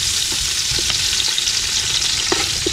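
Ginger, garlic, onion and tomato sautéing in a pan, a steady loud sizzle with occasional stirring clicks and scrapes throughout, no voices.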